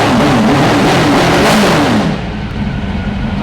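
Street-bike-like car engine set up for drifting revs hard with a wavering pitch that climbs and dips, then settles into a loud, steady idle rumble close by.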